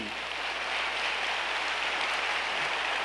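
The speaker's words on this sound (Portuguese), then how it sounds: "Pode aplaudir." An audience at a live talk breaks into sustained applause, a dense, even wash of clapping that stays steady for several seconds with no voices over it.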